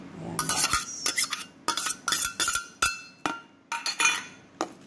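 A utensil clinks and scrapes against a bowl while burong mangga is mixed with garlic, a quick irregular series of sharp, close taps with short pauses between.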